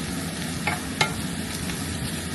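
Garlic and onion sauté in a pan for chicken adobo, giving a steady soft sizzle with a couple of short scraping stirs of the spatula.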